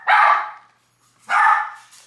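A dog gives two loud, close barks about a second apart, each one short and sharp with silence between them.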